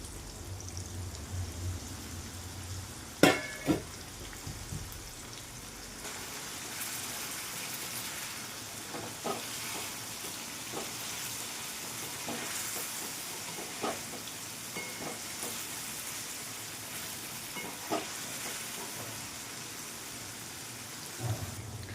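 Ginger garlic paste fries in a pan for a bitter gourd curry, giving a faint, steady sizzle with occasional sharper clicks and stirring knocks throughout.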